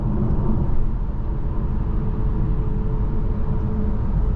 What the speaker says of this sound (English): you're gonna hear a lot more road noise than you normally would if you're just driving with the radio on